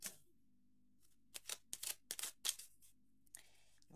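A playing card is laid over the eight of spades on a table: a quiet run of crisp, papery taps and slides, several short bursts close together, with no talking.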